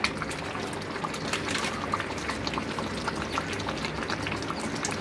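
A kilo of chicken curry with chicken masala and garam masala simmering in a pot, a dense, steady bubbling and popping close by, continuous and even with no talk.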